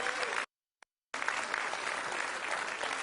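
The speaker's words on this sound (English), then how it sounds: "Let's give him a round of applause as well." Audience clapping at an affordable housing press conference in the Bronx, a brief burst, then a short silent gap, then steady applause resuming until the end.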